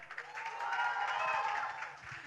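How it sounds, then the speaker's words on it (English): Audience applause at a TV show event, a short burst of dense clapping from a crowd that swells and then eases off, moderately loud, with no talk over it. "Everybody, big round of applause for Arjun."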